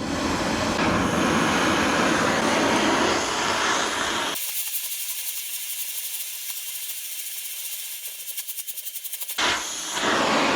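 A power saw cuts steel flat bar for a flatbed build, a loud grinding, rasping cut that stops abruptly, leaving a high whine winding down with faint rattling before a brief final burst.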